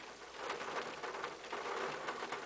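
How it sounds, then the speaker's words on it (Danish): Rain falls steadily on a tent, a close, even patter with soft individual drops over a constant hiss. "Kan I høre, hvordan det regner?"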